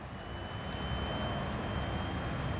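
A GWS Tiger Moth RC model airplane engine drones steadily at a fairly constant throttle, a buzzing whine with a faint high tone, moderately near and unbroken, with no talking.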